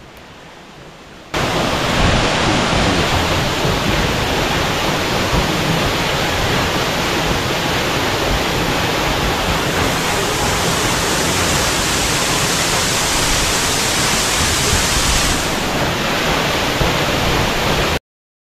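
Nusretiye waterfall on a trekking trail near Gölcük, Kocaeli: a loud, continuous broadband rush of falling water that starts abruptly after a quiet second and holds steady, close and unbroken, to the end.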